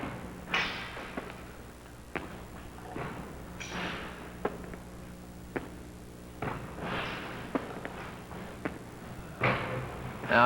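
Basketballs are shot and bounce during shooting footwork practice, producing irregular dull thuds and bounces of moderate loudness, spaced a second or two apart, with no talk.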